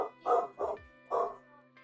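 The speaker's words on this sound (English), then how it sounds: "I can try and get the dog to calm down a little bit" A dog barks a few times at close range indoors, three loud bursts with short gaps between them.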